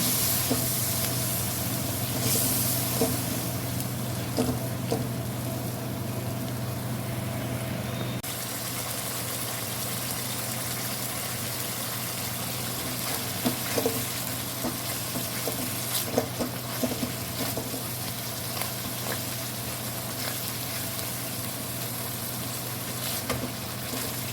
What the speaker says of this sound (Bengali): এবার মশলাটা কষে নেব।